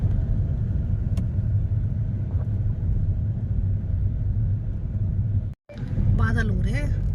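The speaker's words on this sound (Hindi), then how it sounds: "चिंटू बैठ गया है पीछे, गाड़ी हो गया स्टार्ट, अब चल दिए हम, रास्ते में है।" A car rolling along a village road gives a steady low engine and road rumble throughout, with a brief dropout near the end followed by a person speaking over the continuing drone.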